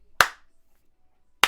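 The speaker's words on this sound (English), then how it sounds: "mock clapping him." Two separate sharp claps spaced about a second apart, loud and isolated with silence between them, from a pro wrestler mock clapping at a rival during a televised WWE SmackDown segment.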